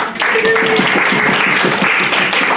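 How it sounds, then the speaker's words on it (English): An audience gives a round of applause for a guest at a lifestyle and values talk, a dense steady wash of clapping heard close, with a faint tonal whistle or feedback near the start. "Round of applause for Mr. Cotton, please."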